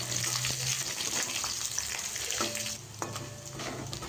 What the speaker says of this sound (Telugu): వీటన్నిటిని 1 నిమిషం పాటు వేగనివ్వాలి